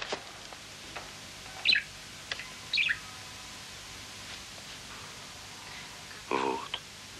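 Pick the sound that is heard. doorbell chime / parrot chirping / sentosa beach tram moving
parrot chirping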